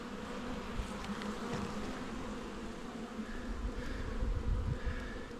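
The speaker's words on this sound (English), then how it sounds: "Bees that are just cruising around suggest to me another queen cup." Bees buzz around a weak nuc hive under attack from wasps, a steady, low droning hum of many insects close by, with no talk.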